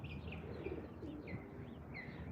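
Pigeon cooing in a park, soft repeated calls over a steady outdoor ambience, with brief chirps from other birds mixed in.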